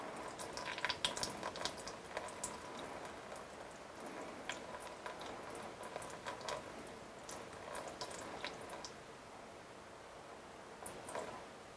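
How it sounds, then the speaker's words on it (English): Water is poured into a bowl for graham cracker dough, a continuous soft trickle and splash with small clinks scattered through it, heard close and fairly quiet. "So let's add 144 grams of water."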